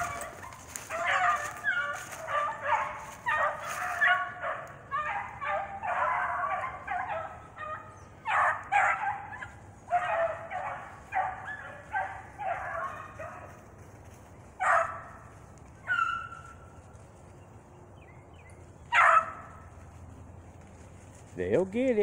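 Two young hunting dogs yip and bay in rapid, excited bursts while chasing a rabbit outdoors, fairly distant, thinning to scattered cries later, with someone talking at times.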